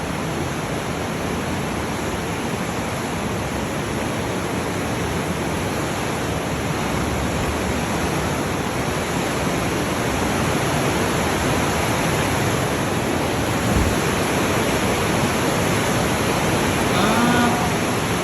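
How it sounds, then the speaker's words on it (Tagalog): Rushing water, a loud, dense and unbroken roar that holds steady throughout, close by, with a faint bird call near the end. "Ah, tubig pala ito."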